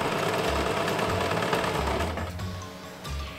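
A sewing machine runs steadily while sewing the side seams of a skirt, giving a loud, continuous mechanical whir with a fast stitching rhythm that dips slightly near the end.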